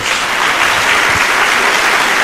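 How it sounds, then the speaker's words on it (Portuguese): Church congregation clapping together during a worship service, a loud, continuous, dense burst of applause close by, with no speech over it. "Dê uma salva de palmas ao Senhor."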